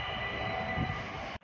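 A train pulling out of a station rumbles steadily close by with a broad, continuous roar, then cuts off abruptly near the end.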